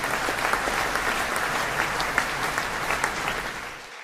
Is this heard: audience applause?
yes